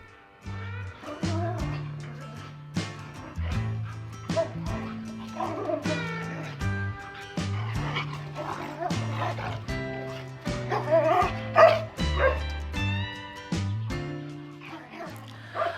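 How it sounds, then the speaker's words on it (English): Two dogs play together, barking and yipping in short repeated bursts with occasional whimpers, fairly close and loud in an echoey room, with a person's voice faintly heard at times. "I'm going to leave you here with the dogs playing."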